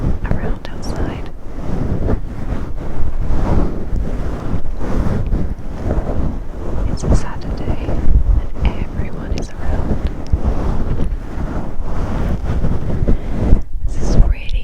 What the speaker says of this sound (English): It's a windy day today, really windy.